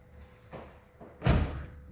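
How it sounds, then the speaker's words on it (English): A Ford F-series pickup door shuts with one solid, loud thump at close range, preceded by a softer rattle of the door moving, then quiet. "go ahead and shut the door"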